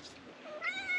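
A cat meows at close range, a drawn, high-pitched call that rises and holds toward the end, alone with no talk.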